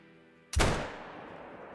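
A single sharp rifle shot cracks at a range, loud and close, followed by a long fading echo rolling away over open ground.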